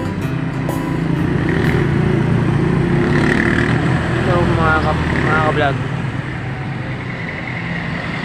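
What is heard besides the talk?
road traffic of cars and motorcycles in Subic, Zambales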